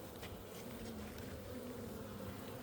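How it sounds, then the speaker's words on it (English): Honeybees crowd over a brood frame pulled from an open hive, making a soft, continuous buzzing hum. The drone stays even and faint throughout, with no voices over it. "those bees are all over that frame"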